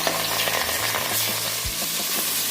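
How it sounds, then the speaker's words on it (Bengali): Glass cup fish fry in hot oil with a dense, steady sizzle and crackle, punctuated by a few soft thuds and spatters, close and continuous with no talking. "এবার আমি এক এক করে মাছগুলো দিয়ে দেব"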